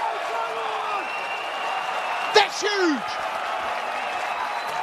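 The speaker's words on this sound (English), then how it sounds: "Listen to that crowd" Crowd at a Hong Kong China vs Brazil men's rugby union international cheering and applauding a try in the corner: a steady wash of distant stadium noise swelling briefly, with a commentator talking over it.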